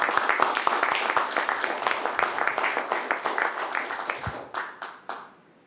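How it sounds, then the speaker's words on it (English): An audience claps for a panel after a discussion on free speech and free enterprise on the internet, with steady, dense applause that thins into a few scattered final claps and fades to quiet. "before I turn this over to Aaron Mercer, I want you to give a round of applause to our stellar panel for a spirited discussion."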